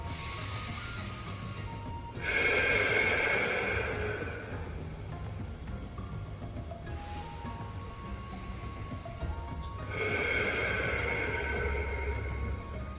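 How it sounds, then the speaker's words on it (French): Two slow, deep breaths, each a soft, airy rush of air drawn in and let out, separated by a quiet pause in a still room. "Nous faisons ensemble 3 grandes respirations avant de revenir."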